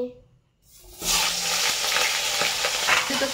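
A brief quiet pause, then fish heads hit hot oil in a wok and erupt into a loud, steady crackling sizzle with occasional pops, close up and with no talking.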